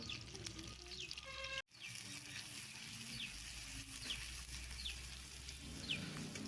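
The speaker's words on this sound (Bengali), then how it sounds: "ওই তেলেই পোলাওয়ের জন্য বেরেস্তা করে নেব" Sliced onions fry in the oil left from frying vegetables, browning for polao: a steady, close hiss of sizzling that briefly drops out, then carries on evenly.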